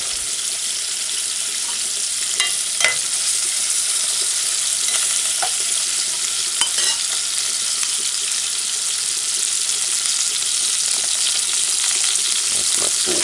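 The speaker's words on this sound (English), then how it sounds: "That's my food boiling." Ackee and saltfish with sweet pepper and onions sautés in a pan on a stove at medium-high heat, giving a steady dense sizzle throughout with occasional light clicks and stirring sounds.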